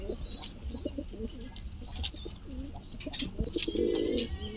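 Pigeons at a wholesale pigeon market coo close by, a few low rounded coos rising over a busy background of chirps and faint rustling, with no talking.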